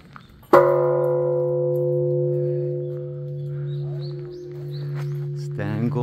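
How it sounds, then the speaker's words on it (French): A temple gong at Eifuku-ji, a Shikoku pilgrimage temple near the Seto Inland Sea, is struck once with a sharp attack and rings on in a long, steady, humming decay, with faint birdsong and another sound entering at the end. "C'est un gong dynamique."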